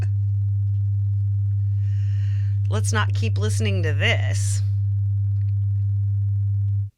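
A loud, steady low sine drone hums continuously throughout, with a brief burst of speech and a faint chirpy tone over it midway.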